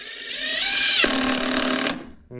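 A Keyang ID16BL-150I impact driver drives a screw into wood with a steady, rapid, buzzing hammer rattle. The pitch shifts partway through, then it stops abruptly, up close and without speech.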